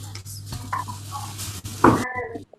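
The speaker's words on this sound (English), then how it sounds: "we put 2 spoons of the sauce together with the oil in the pot and adding the rice, and we are frying the rice." Rice stirred and frying in a pot with oil and a spoonful of sauce, giving soft scraping stirs and a light sizzle with a brief louder clatter near the end before falling quiet.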